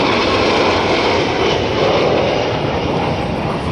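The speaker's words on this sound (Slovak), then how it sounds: "z južnej strany prilietajú na vzletovú a pristávaciu plochu letiska Sviač tri lietadlá" A Tu-154M airliner escorted by two MiG-29 fighter jets flies in toward the runway at Sliač airfield during an air show, a loud, steady, continuous roar of jet engines.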